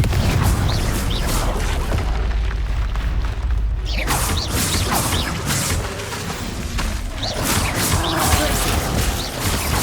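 Confringo explosive spell blasts in Hogwarts Legacy roar through a loud, dense stretch of booming impacts, crashes and whooshes, with a brief dip before the chaotic explosive din resumes.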